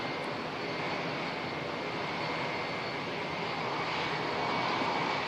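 Qantas jet airliner arriving at Auckland Airport, a steady broad engine roar held throughout, moderately distant and swelling slightly toward the end, with no voices.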